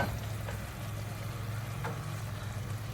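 Marinated chicken cooking in hot oil gives a steady low sizzle and frying hiss, faint and continuous, with a couple of soft scraping touches.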